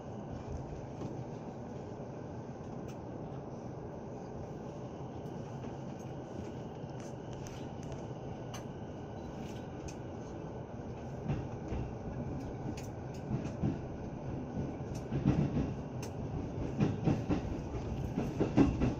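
A commuter rapid train on the Hachiko Line rolls along with a steady interior rumble and rhythmic rail clatter that grows louder and busier toward the end, heard from inside the carriage without talk.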